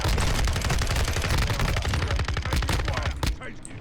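Rapid automatic fire from the FSS Hurricane submachine gun in a video game, a dense, loud, steady rattle of close shots running for several seconds before cutting off abruptly.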